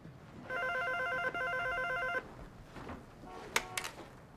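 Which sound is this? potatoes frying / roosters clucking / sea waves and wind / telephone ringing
telephone ringing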